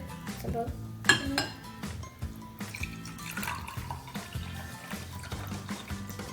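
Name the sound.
water poured into drinking glasses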